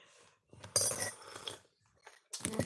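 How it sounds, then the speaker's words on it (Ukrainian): Dishes and cutlery clink and clatter in short bursts with brief pauses, close by, as items are set down and loaded into a dishwasher. "Там я її в посудомойку ставлю, щоб вона помилася."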